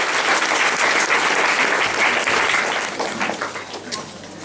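A congregation at a church ministry gathering breaks into loud, dense applause that holds steady and then eases slightly toward the end.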